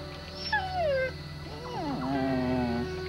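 A dog whimpers and lets out a drawn-out, wavering howl, high whining cries rising and falling close by over a low background hum.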